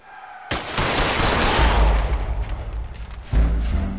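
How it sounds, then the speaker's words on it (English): Gunfire in the LA Noire video game as a police officer is shot: a sudden loud burst of rapid shots with heavy low booms that fades toward the end, then a second blast, no talking. "Shot a cop."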